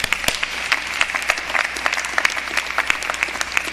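A commencement audience at the University of the Virgin Islands breaks into steady, dense applause, many hands clapping at once in a continuous wash with no talking over it.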